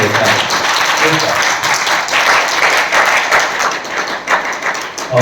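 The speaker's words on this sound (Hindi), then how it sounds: "ये सब लोगों के लिए तालियां बजनी चाहिए" An audience claps loudly and continuously at an award ceremony for an Ayodhya Ramlila troupe. The dense, close applause fills the whole stretch, and some voices can be heard mixed in.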